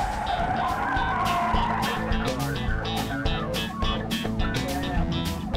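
A car skids with squealing tires as it is shoved off the road and spun around during a police chase, loud and sustained with engine roar and repeated bursts of screeching rubber.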